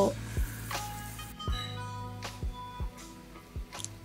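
Pakoras frying in hot oil, a soft sizzle running underneath while utensils clink and tap sharply against the pan several times across the moment.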